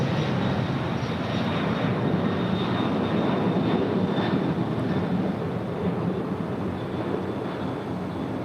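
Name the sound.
Kalitta Air airliner in face mask livery arriving from Anchorage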